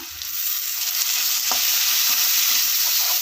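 Curry leaves sauté in hot oil in a pan for tomato thokku, a loud, steady sizzle and crackle with occasional scrapes of stirring, close up and with no talking.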